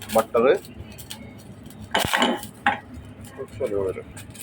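Vegetables tossed in a pan with a little butter give a few loud, irregular metallic clanks and clinks of utensil against cookware, separated by short quiet gaps.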